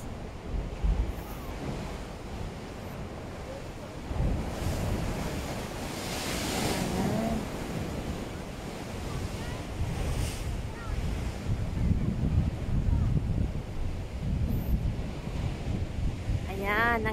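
Steady roar of surf and wind buffeting the microphone at the Punakaiki Pancake Rocks on New Zealand's west coast, continuous and fairly loud, with waves swelling and breaking throughout.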